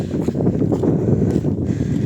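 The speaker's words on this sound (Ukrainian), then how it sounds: "Може мене не чути, бо такий вітер-вітер." Steady low rumbling buffeting of wind against a microphone, continuous and fairly loud throughout with no voices.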